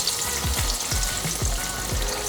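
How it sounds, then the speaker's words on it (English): Chicken cutlet frying in peanut oil crackles with a close, continuous bubbling sizzle, punctuated by a series of low thumps as pieces shift in the pan, with no one speaking. "So you just fry it. I'm using peanut oil, which is my favorite for frying."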